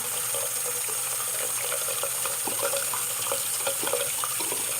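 Tap water runs steadily into a sink while a makeup brush is rinsed under it, a constant close rushing splash with small fluctuations and no voices.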